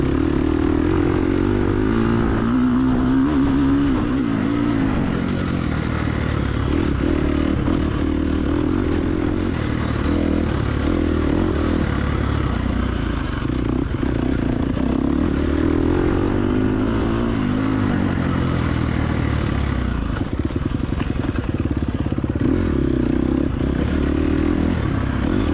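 Fuel-injected four-stroke dirt bike engine in a TORCS hare scramble race, a loud continuous buzzing drone with rising and falling revs throughout, alone without voices.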